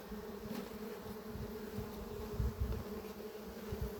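A steady, dense insect buzz from many bees, continuous and fairly close, with a low hum underneath.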